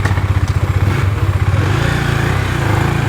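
A KTM Duke motorcycle engine runs close and loud, idling with a rapid, even thump that settles into a steady throb.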